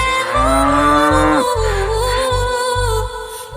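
Sung children's Islamic song in which a cow's moo is imitated amid other animal calls, a long sustained low moo with a falling pitch carried over a steady, loud backing beat.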